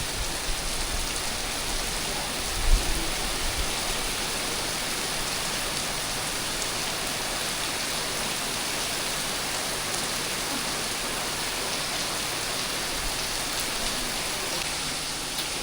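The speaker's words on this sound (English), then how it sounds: "That is some rain." Heavy rain pouring steadily in Corfu, a dense, unbroken hiss of drops on surfaces close by, with one brief bump early on and no voices.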